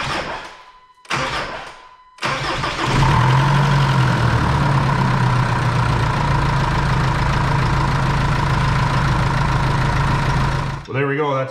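A Jeep Liberty CRD diesel engine cranks in two short bursts, then catches and settles into a loud, steady, rattly idle that runs on for about eight seconds, close up and alone.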